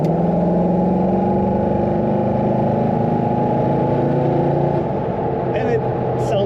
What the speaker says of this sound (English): Started just with a flick of a key. Idles great right away.